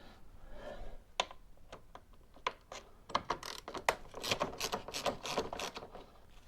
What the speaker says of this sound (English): there's 3 T20 Torx screws again, so we'll take them out next